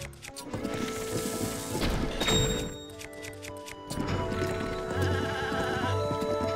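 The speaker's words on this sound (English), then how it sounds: "Go away, goat. No one wants to hear you." Goat bleating in Zelda: Breath of the Wild, a few wavering animal calls heard over game music and ambient sounds, moderately loud.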